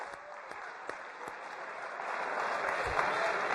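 An audience claps for a speaker at a live event. The steady applause builds louder toward the end, with a few sharp individual claps standing out early on.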